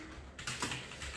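Close, quick keystrokes on a computer keyboard connected through a UGREEN 4-port USB 3.0 KVM switch box clatter briefly in a small burst, with no one speaking.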